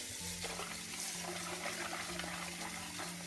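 Dried black wood ear mushrooms are rinsed in water, with faint sloshing, trickling and light splashes over a low steady hum, no talk.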